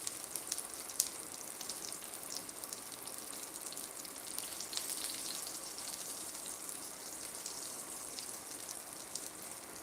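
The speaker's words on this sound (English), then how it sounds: "We should get a pretty decent sear on the bottom side." Pork chop searing in a frying pan, a steady bright sizzle and crackle with scattered pops, close and continuous throughout with no talking.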